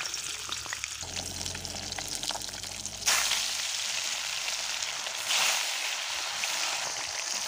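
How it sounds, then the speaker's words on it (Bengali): Fish frying in hot oil in a pan, a steady crackling sizzle that swells louder partway through, with a brief low stirring rumble early on and no one speaking. "মাছ দিয়ে দিয়েছি, এবারে মাছগুলিকে ভেজে নেব।"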